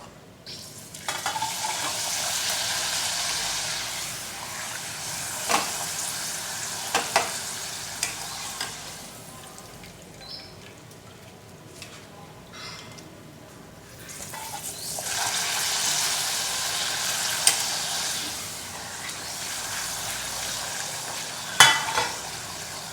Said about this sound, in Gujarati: બાકીના બધા જ પાપડ હું તળીને તૈયાર કરી લઈશ